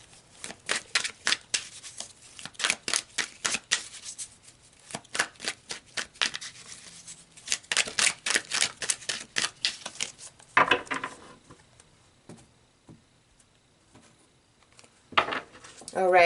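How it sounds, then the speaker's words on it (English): Tarot cards are riffled and shuffled in quick, crisp bursts, with several rapid flurries close by, then quieter handling and the soft slap of cards being pulled and laid down. "Let's pull some more cards"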